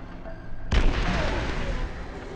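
A sudden heavy blast of gunfire in Remnant: From the Ashes apocalypse mode, followed by a sustained roar of noise that fills the remainder of the moment.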